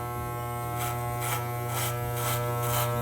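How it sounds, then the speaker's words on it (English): Electric hair clippers run for a home haircut, a loud steady close buzz with a strong hum, its tone swelling softly in repeated pulses as strokes pass through hair. "We're gonna turn the machine on, and let's begin our haircut."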